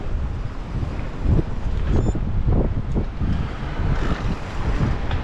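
Strong gusting wind on a sunny February day on the Crimean coast near Yalta, roaring and buffeting the microphone in a loud, continuous rush with no voices.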